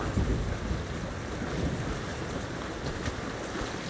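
Storm wind howling around a sailing ship in Sea of Thieves, a steady, fairly loud rush of wind and sea noise with low rumbles and no voices.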